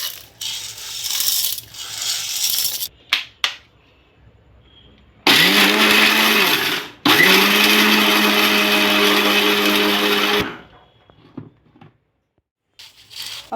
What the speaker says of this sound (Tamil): நம்ம மிக்ஸி ஜாரில் போட்டு நம்ம அரைச்சிட்டு அதுக்கப்புறம் பார்க்கலாம்.